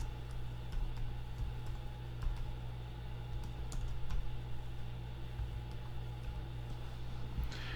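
Computer keyboard typing during Photoshop layer work, a scattered run of light clicks and taps over a steady low hum, fairly faint and close, no voice.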